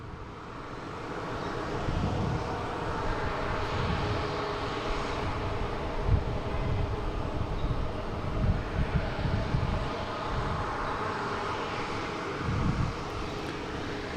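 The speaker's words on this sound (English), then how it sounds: "then we have a JetBlue just pulling out" A JetBlue jet pulls out at Boston Logan International Airport, its engines a steady, continuous roar with broadband wind-like rumble lasting throughout, moderately loud and without speech.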